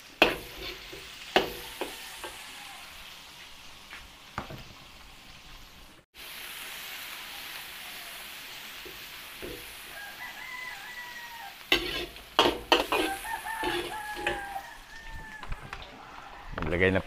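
Chopped onions sizzle in a hot pan, with clinks and scrapes from a spoon stirring them at intervals, and a rooster crows in the background near the end.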